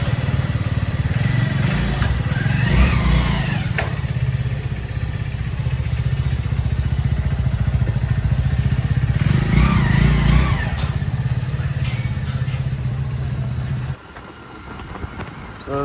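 A motorcycle runs steadily for about fourteen seconds with a loud, continuous engine drone and some wind buffeting, then its level suddenly drops near the end.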